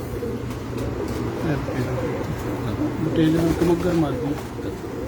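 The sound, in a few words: Batera pigeon cooing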